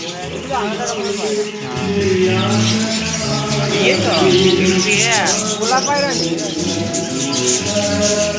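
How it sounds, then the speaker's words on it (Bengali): Parakeets chirp in short bright calls across a busy outdoor park during a club picnic, with people talking and crowd noise steadily underneath. "এটা টিয়া পাখি।"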